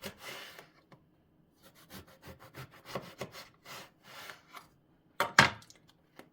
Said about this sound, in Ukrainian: беремо баклажани та нарізаємо їх тоненькими пластинами